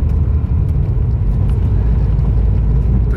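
An Audi TT MK1 drives along an open road at night, giving a loud, steady low rumble of engine and tyre noise from inside the cabin.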